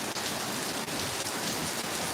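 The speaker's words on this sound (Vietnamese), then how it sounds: "Lượng mưa tuy rằng nó hơi nhỏ, nhưng mà đủ để cho ướt cây cà phê" Light rain falls steadily on coffee plants outdoors, a dense, even hiss of drops with no voices.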